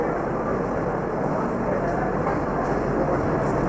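The VGLJ Superfast Express (22198) pulls out of Jasidih Junction in Jharkhand, with a steady, loud rumble of rolling wheels and a continuous roar heard from on board throughout.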